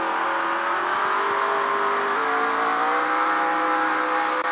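A race car engine in the Roblox game revs with a smooth, whining tone that climbs steadily in pitch, sustained and fairly loud with no other sounds.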